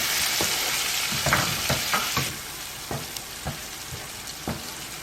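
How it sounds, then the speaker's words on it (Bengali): A spice mix of cumin, coriander, chili, turmeric and Kashmiri chili powders fries in a pan. A continuous sizzle carries a series of scraping stirring strokes at an uneven rhythm, close and without talk. "এবার আমি মশলাটাকে নাড়ব।"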